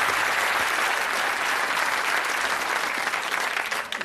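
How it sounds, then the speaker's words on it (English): Studio audience applause on the UK game show Bullseye, a loud sustained burst of clapping that holds steady for several seconds and tapers slightly at the end. "Give him a nice warm round of applause."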